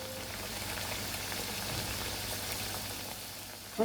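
Chicken vadas frying in hot oil, a dense, steady sizzle and crackle, close and even, with a small clatter at the very end.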